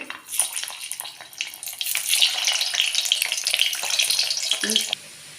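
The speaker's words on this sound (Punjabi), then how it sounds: "ਬਾਕੀ ਦੇ ਆਲੂ ਵੀ ਆਪਾਂ ਫਰਾਈ ਕਰ ਲਵਾਂਗੇ" Potatoes for dum aloo frying in hot oil, a steady busy sizzle with crackling texture that runs continuously for about five seconds and then stops abruptly near the end.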